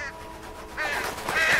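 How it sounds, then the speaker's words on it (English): A crow gives two or three harsh, nasal caws at moderate distance, each short and rising, with no talk during the calls. "Crow."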